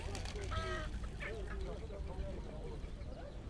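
Geese honk and ducklings quack at a crowded poultry market, with people chattering throughout and a steady background din.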